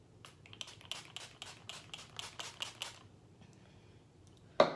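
Rapid bursts of a pump spray as e.l.f. Illuminating Primer Mist is misted over the face, about a dozen quick close hisses in a row, ending in a sharp knock.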